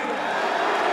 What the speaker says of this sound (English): Can we give a round of applause for Eddie Hearn, please?